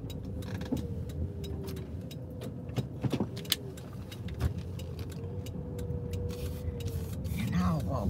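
A car pulling in and parking at a roadside spot, with a low idling engine hum and faint road noise, scattered clicks and a jingle of keys, and a brief squeaky sound near the end.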